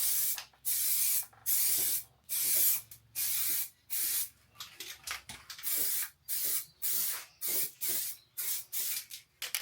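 Aerosol spray paint applied in thin coats to Harley Davidson Sportster XL1200 motorcycle parts, a series of short hissing bursts separated by brief pauses, close and fairly loud.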